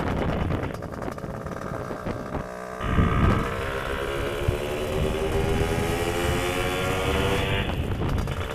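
A customer-built GT300LC motorcycle engine runs for its first test, a steady, loud drone with a rising pitch partway through as it revs and holds, close to the microphone with some wind buffeting.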